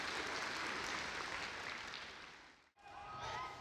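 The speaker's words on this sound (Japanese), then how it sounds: "型が決まると館内からは拍手が送られていました。" Applause fills a martial arts hall during a New Year kagami biraki ceremony after a kata is completed, a steady wash of clapping that drops out abruptly and then resumes more faintly.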